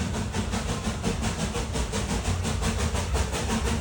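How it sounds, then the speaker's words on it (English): Train rolling past at the Silver Dollar City theme park, a steady, close rumble with rhythmic clatter and hiss that holds at an even level for about four seconds, with no talking. "We're gonna let the train go by"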